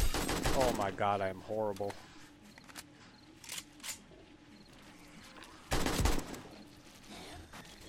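Gunfire in 7 Days to Die during a zombie horde night: a few sharp, loud shot bursts, one early and a heavier one near the end, with a player talking over the game and quieter rattles in between.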